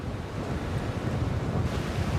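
Big ocean waves surge around a Viking ship under lowered sail, a loud continuous roar of surf and wind buffeting with no voices.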